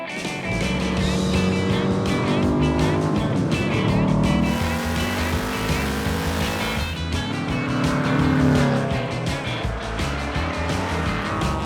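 A Porsche 912 with a lightweight four-cylinder engine drives steadily, its engine droning loud and close without pause for the whole stretch, with no talking.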